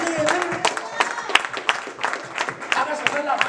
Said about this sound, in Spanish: Hay una tonelada de aplausos, hermano, al Señor.